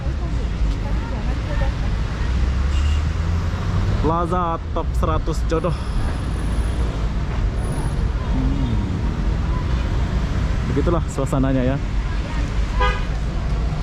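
Busy street traffic in front of a shopping plaza in Jodoh, Batam, where buses and minibuses pick up shoppers: a constant rumble of passing vehicles with a few short car horn toots, under someone talking.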